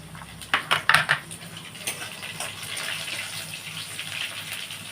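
Chopped green chillies dropped into a frying spice tempering in a pan while cooking greens, a brief burst of sharp sizzling spatter and clinks at the start, then a quieter continuous frying hiss close by.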